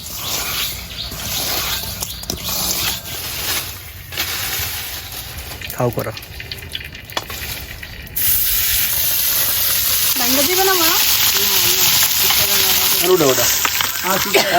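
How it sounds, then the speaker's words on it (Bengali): Fish lightly frying in hot oil, a steady loud hiss and sizzle that swells louder partway through, with someone talking over it. "হালকা ভাজা দিতে হবে"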